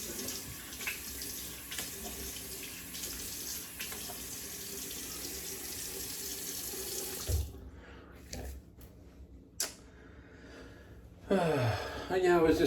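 A bathroom tap runs steadily to rinse alum off after a shave, a close, continuous splashing stream for several seconds that then stops, followed by quieter handling sounds and faint breathing.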